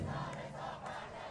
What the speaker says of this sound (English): a video of all these people cheering that Khomeini's dead